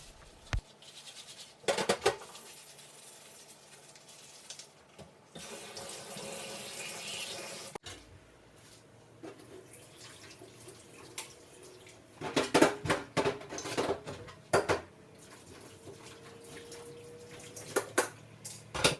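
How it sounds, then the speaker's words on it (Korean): Boiling-hot water pours and splashes over gas stove burner caps in a sink after they have been scrubbed with detergent, a rushing, gurgling flow that rises and falls across the span, joined by scattered scraping and clattering noises. "버너캡도 세제로 닦아주신 후에 팔팔 끓인 뜨거운 물로 소독해 주시면 됩니다"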